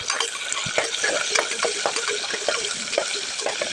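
Large onions sizzle and clatter in a pan, with crackling and occasional stirring scrapes; a steady, moderately loud cooking sound with no talk.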